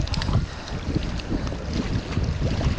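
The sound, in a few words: strong wind while fishing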